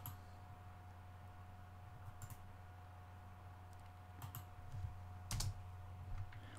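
Keys on a computer keyboard tap out a command in a Linux terminal, soft scattered clicks over a steady low electrical hum, faint and sparse with a slightly louder burst near the end.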